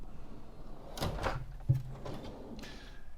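A receipt drawer on ball-bearing sliders in a converted garage is pulled open, giving a brief rolling slide followed by a soft knock as it stops, heard close by.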